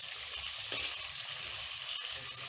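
Tomatoes and garlic sautéing in a pan for a fish curry, a steady, soft sizzle with a few faint clinks of a utensil, no talk.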